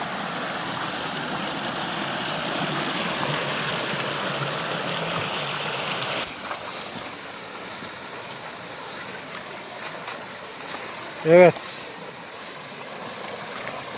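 Water rushes steadily down the Acısu mountain stream at a second small waterfall above a little pond, loud and continuous at first, then softer and thinner, with a brief spoken word near the end.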